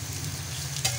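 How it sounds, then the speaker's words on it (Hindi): Paste sizzles and crackles in a hot pan with a steady frying hiss and a brief scrape of stirring near the end. "अब हम इसमें अदरक लहसुन का पेस्ट डाल देते हैं, 2 मिनट इसको भून लेते हैं।"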